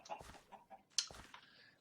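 Quiet Minecraft chicken clucking in short bursts, a few soft clucks and one sharper squawk, faint and close.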